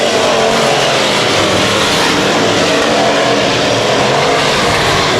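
Race cars roar around an oval speedway on the final lap at Heart O Texas Speedway, a loud, dense wall of engine noise that holds steady throughout.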